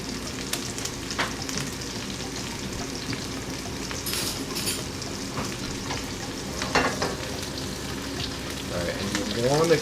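A thin coffee-rubbed steak fries in butter with garlic in a pan, a continuous close sizzle and spatter with occasional scraping and louder bursts of crackle.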